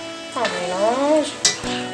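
Chicken and vegetables being stirred into tomato sauce in a pan, a soft sizzle and stirring scrape under a brief voice, with a short clatter near the end.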